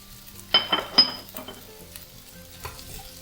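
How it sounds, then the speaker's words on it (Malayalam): Potatoes with salt fry in a pan as they are stirred, with a close sizzle and a few sharp spatula clinks against the metal that fade into a quieter hiss. "എന്നിട്ട് നമുക്ക് നല്ല പോലെ ഒന്ന് വഴറ്റി കൊടുക്കാം."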